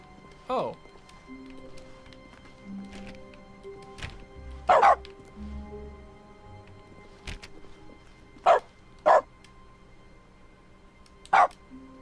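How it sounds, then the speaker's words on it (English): In The Stanley Parable, short dog barks triggered by the use button sound at irregular intervals, about five sharp yaps standing out against a quiet background. "a console command that makes the use button make a barking sound"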